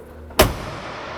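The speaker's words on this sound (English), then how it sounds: "I close the door." A single solid thud as the driver's door of a Ford Fox Body Fairmont is shut, sitting on all four wheels on the ground, one sharp close slam with a short decay and no talking.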